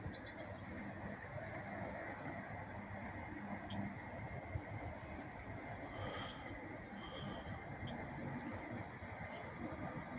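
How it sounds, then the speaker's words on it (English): A passenger train rumbles past at a distance, a steady broadband roar with faint squeals and clatter, no voices. "And a passenger train as well."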